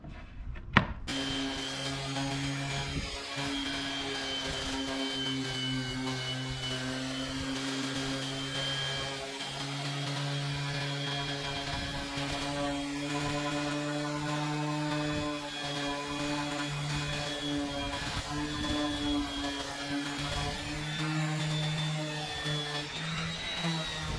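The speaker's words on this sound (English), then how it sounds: "So let's get to sanding." A power sander works a wooden cutting board of maple and walnut, giving a steady droning whine with strong tonal hum and scratchy friction, continuous and close for the whole stretch, no talk.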